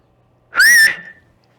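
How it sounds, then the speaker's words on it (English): A single loud, shrill mouth whistle sounds near and clear, rising slightly in pitch for about half a second before cutting off, with silence around it. "That's 2, wasn't quite as loud as the first one, but it's still a good whistle."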